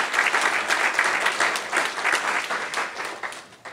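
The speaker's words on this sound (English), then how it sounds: "Could we give them a round of applause" Audience applause at an evening panel on social innovation and charter schools, many hands clapping in a dense, steady patter that fades slightly toward the end.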